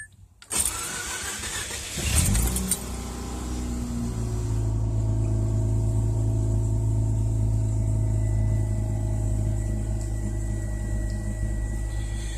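A car engine fitted with new T-ReX ignition coils cranks briefly, catches and settles into a steady, close idle that keeps running evenly to the end.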